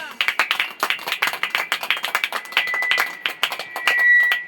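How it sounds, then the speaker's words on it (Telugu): A church congregation at a fasting prayer service claps hard, sharp hand claps in an uneven rhythm, close and loud, with a few voices calling out over them. "చప్పట్లు కొట్టండి గట్టిగా"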